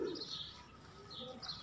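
Gitra pigeons, an Indian breed, coo softly in a low murmur with faint chirps and higher calls scattered over quiet background noise, fairly distant and without speech.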